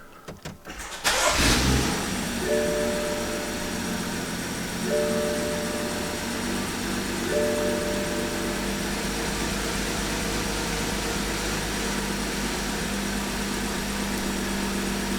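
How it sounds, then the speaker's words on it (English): A BMW with the N55 engine cranks and fires up, a short starter burst followed by a steady, smooth idle that carries on close and even to the end, with no talk over it. "Start the car."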